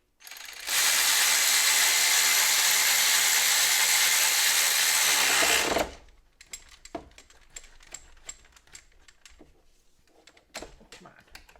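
A cordless drill spins loudly and steadily for about five seconds while removing parts around the ignition coils on a 2.0 engine of a Mk4 VW Jetta/Golf/Beetle, then stops, followed by small clicks and handling noises.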